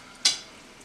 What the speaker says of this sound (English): we're going to take this cold water, and we're going to pour it in